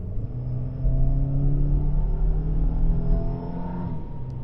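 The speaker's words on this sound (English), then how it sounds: "we'll see how it accelerates right here first" A 2022 Subaru WRX with a CVT and FA24 engine accelerates in Sport Sharp mode, its engine drone climbing steadily through a smooth rising pull, heard from inside the cabin with no talking.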